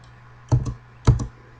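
Two crisp keystrokes on a computer keyboard sound about half a second apart, close and quiet against a low steady hum.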